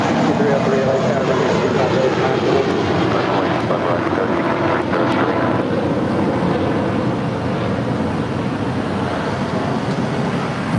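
A JetBlue Airways airliner, flight 701 from Fort Lauderdale, arriving at LAX, a broad continuous jet roar mixed with wind buffeting the microphone, loud and sustained throughout, with faint voices underneath.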